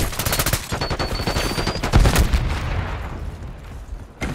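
Rapid automatic gunfire rattles in Call of Duty Black Ops 6 multiplayer, loud and close, with overlapping bursts and a heavy low thump midway before the shots thin out into a fading tail and one last report.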